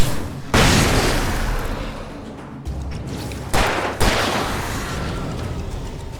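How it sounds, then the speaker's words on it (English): A flashbang grenade detonates in the video game Alan Wake Remastered: a loud sudden boom with a long ringing decay, followed by two more heavy bursts later, each fading slowly. "Flashbang out."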